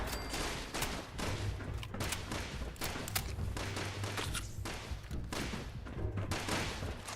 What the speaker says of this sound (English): This whole automatic weapon thing isn't working out that well.